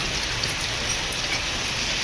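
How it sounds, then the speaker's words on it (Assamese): Heavy rain pours steadily near a roadside in Guwahati, a constant dense hiss of drops drumming on surfaces with no break. "ইমান বৰষুণ আছে।"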